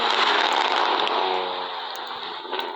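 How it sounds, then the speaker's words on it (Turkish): A BMW car passes by outdoors, a broad, moderately loud engine rush that swells early then slowly fades as it moves away, with a few faint clicks and no speech. "Yine bir BMW'miz var."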